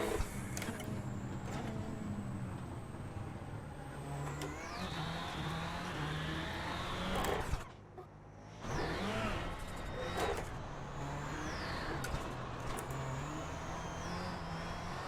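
VW Beetle rallycross car in the iRacing sim on the Iowa track: loud engine roar rising and falling through gear changes, with revs dropping under braking and a brief gap before the engine picks up again.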